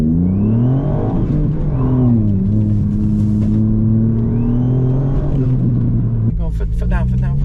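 A stage 2 tuned Ford Fiesta ST MK8 accelerates hard, its engine droning loud and close as the pitch climbs through the gears, with brief dips at shifts and people talking excitedly over it inside the car.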